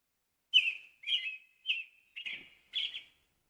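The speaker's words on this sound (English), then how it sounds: "Let's hear the robin." An American robin sings a series of five clear, warbling whistled phrases in a steady, evenly spaced rhythm, fairly faint and alone.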